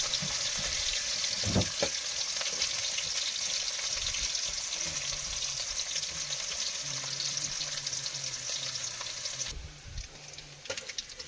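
Vegetable stems (data) fry in a pan with a steady, close hiss of sizzling oil, broken by a few soft knocks and thumps; the sizzle thins slightly near the end.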